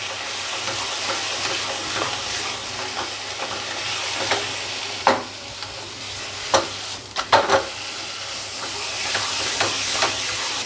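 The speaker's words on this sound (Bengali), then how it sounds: "এবার তেলের মধ্যে এটাকে সাঁতলে নেব" A vegetarian mock-fish curry mixture sautéing in hot oil, a continuous close sizzle and hiss with scattered scraping stirs and a few louder clatters toward the end, no voices.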